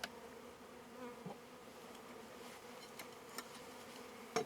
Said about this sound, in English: I don't need the bees in here